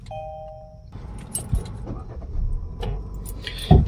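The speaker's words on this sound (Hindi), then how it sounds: "इसका भाई इग्निशन करते हैं एक बार ऑन" Ignition of a 2023 KIA Carens Prestige is switched on, chiming at first, then a brief crank and the engine catching into a quiet, refined idle, with a sharp click near the end.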